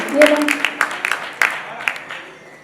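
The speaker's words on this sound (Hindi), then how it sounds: "एक बार तालियां उठाइए, पढ़ने का मन दीजिएगा।" Audience clapping at a Hindi poetry gathering (kavi sammelan) at a Dussehra fair in Kapasan, heard as a short burst of scattered hand claps that fades out over a few seconds.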